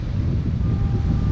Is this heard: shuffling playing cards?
no